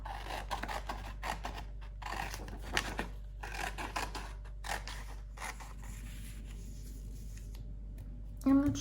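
Scissors snip through a photograph to cut out a labyrinth shape, close crisp cuts in short bursts with pauses, over a low steady hum.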